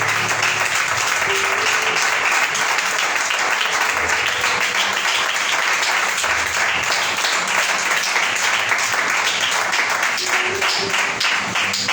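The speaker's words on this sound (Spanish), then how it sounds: "hágale fuerte las palmas al Señor" A church congregation claps steadily and loudly for about twelve seconds, a dense, continuous wash of applause with no talking over it.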